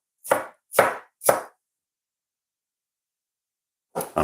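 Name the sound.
dicing watermelon with a knife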